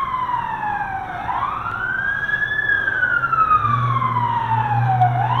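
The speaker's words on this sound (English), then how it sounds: "We're just having a day for sirens" An emergency vehicle siren wails in a long rising and falling sweep as it passes, loud and steady, heard during carpet cover pressure-washing work with a low engine rumble joining toward the end.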